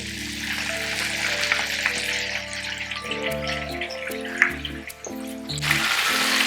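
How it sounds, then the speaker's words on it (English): Loud, steady sizzling of flour-coated chicken frying in hot oil, a constant crackling hiss with a low hum underneath. "she's frying it beautifully here now"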